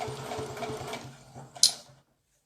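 A sewing machine stitches in reverse on a fabric rag doll, a steady rapid mechanical whir with a quick rhythmic pulse lasting about two seconds, ending with a sharp click before falling silent.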